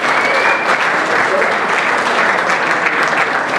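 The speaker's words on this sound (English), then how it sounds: "Please give one of my volunteers a round of applause" Audience at a magic show in Atlanta bursts into sustained applause, a thick continuous wash of clapping from a large crowd that holds evenly throughout.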